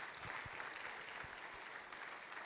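An audience applauds a minister at a national digital skills training programme ceremony, a faint, even patter of clapping heard from some distance for the whole stretch.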